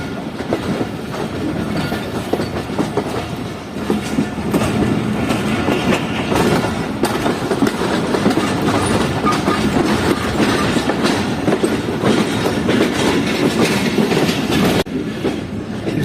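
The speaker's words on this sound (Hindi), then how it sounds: "ट्रेन जो है वो फैसलाबाद रेलवे स्टेशन के प्लेटफॉर्म नंबर 1 पर जा रही है" The Karakoram Express rolls into Faisalabad railway station toward the main platform, a loud steady rumble with rhythmic clickety-clack of wheels over rail joints and faint wheel squeal, with no voices.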